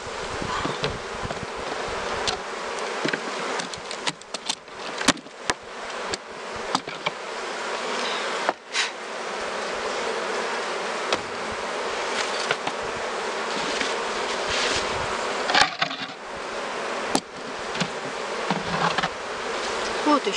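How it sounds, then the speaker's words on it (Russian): Honeybees hum in a dense, steady buzz while being transferred into fresh hives. The drone is loud and close and carries on for the whole stretch, with brief louder surges as bees pass near. "Вот еще немножко пчелок"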